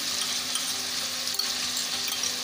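Chicken karahi frying in a pan, a steady, close hiss and crackle of sizzling oil that holds at an even level throughout, with no talking.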